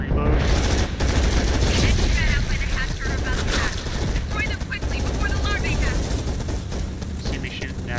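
Dense, rapid automatic gunfire fills the Undawn shooter game, with continuous bursts of shooting over a busy backdrop and a voice talking over the firing.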